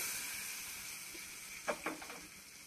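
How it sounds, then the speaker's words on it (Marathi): Hot oil tempering poured over raw mango pickle, hissing in a soft, steady sizzle, with two brief louder crackles near the end; quiet and close, no voices. "आता ही मस्तपैकी फोडणी आपण याच्यावरती अशी ओततो"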